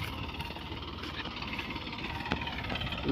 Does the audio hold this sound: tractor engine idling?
yes